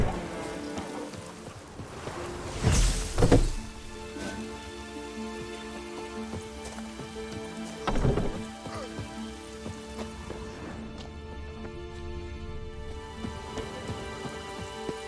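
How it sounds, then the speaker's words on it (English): Steady rain pattering in The Witcher 3, a continuous wet hiss with two brief louder rumbling bursts near the start and middle that could be thunder, with no talk over it. "It's raining."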